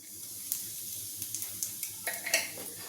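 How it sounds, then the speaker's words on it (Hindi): Ajwain carom seeds sizzle softly in a little hot ghee, a faint airy hiss dotted with small crackles and pops, with a light stirring clink near the end. "जैसे ही घी गर्म हो जाएगा उसमें हम डालेंगे अजवाइन"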